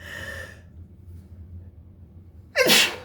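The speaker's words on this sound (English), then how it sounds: "Sorry, I had to sneeze." A single sharp, loud sneeze bursts out near the end after a faint tone and quiet background hum.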